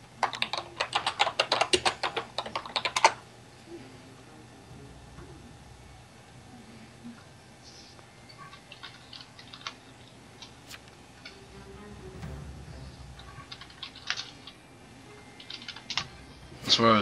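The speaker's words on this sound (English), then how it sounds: "That's where I was typing." Fast computer keyboard typing rattles out in a dense burst for the first three seconds, then gives way to sparse, quieter key taps and faint ticks over a low background hum.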